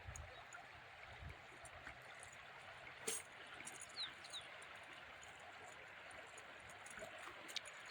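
A small stream gurgles over mossy rocks on a forest ghat route, a steady soft trickle and babble with faint birdsong and occasional splashes in the background.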